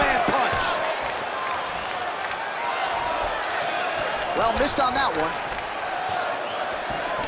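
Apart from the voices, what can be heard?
crowd reacting in UFC 5 video game fight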